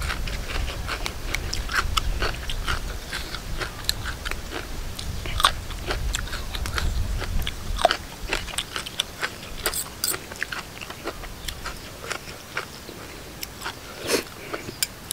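Crispy battered squid is chewed up close, giving repeated sharp crunches at an irregular rhythm over a quiet background, with no talking.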